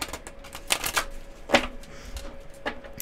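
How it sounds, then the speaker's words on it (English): Tarot cards being shuffled by hand, a few brisk riffling bursts spaced across a quiet room, crisp and close with no talking. "I'm just being guided to really shuffle these tarot cards"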